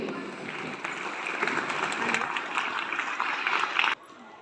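An audience claps in welcome as guests come onto the stage at a school annual sports meet, a steady wash of applause that builds, then cuts off abruptly near the end.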